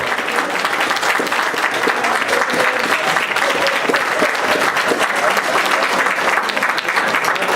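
Steady applause from an audience at a Christmas wafer gathering, honoring the first-place winner of a nativity scene contest, dense clapping sustained throughout with a faint murmur of voices.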